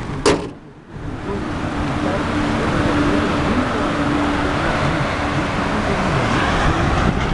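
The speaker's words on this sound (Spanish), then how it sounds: "qué sereno se escucha el motor de este Toyota Yaris 2010, cuatro puertas." A 2010 Toyota Yaris four-door idles steadily at close range, giving a smooth, even engine hum. A brief mechanical click and a short dip in sound come first, then the hum holds constant throughout.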